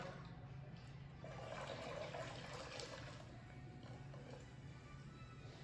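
Ginger ale from a full small bottle is poured into a punch bowl, giving a faint, continuous liquid splash and fizz that runs steadily for several seconds without speech.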